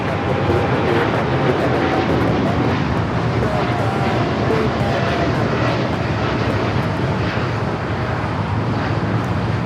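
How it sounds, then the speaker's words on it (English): A United Airlines jet takes off from Los Angeles airport bound for Tokyo Narita, its engines producing a loud, sustained roar that fills the scene, steady and broad with a faint whine on top. "That is United Airlines Flight 32 taking off to Tokyo Narita."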